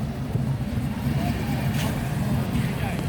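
Cars pull out of a car show, their engines rumbling in a low, continuous drone nearby with slight swells as they move off.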